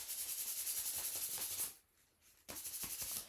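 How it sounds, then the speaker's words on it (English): An ornament is sanded by hand in quick, rhythmic rubbing strokes, close and soft, with a brief pause before the scraping resumes. "doing a little more sanding"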